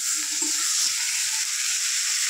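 Onion, ginger and garlic already fried soft with tomato being added to the pan give off a steady, close hiss of sizzling with a soft stirring knock or two, no voices.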